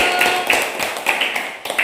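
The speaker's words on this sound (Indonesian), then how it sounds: "tepuk tangan untuk kelompok cendrawasih" Classroom of primary school children applauding a student group, a steady dense patter of hand claps with small rhythmic surges, fairly close and moderately loud.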